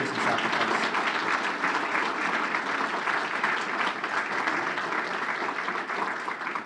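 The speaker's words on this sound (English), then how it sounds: "let's give them a great round of applause for their service and sacrifice" A room full of people at a welcome home breakfast for veterans claps steadily in sustained applause honoring Gold Star families, loud and even throughout with no pauses or talking.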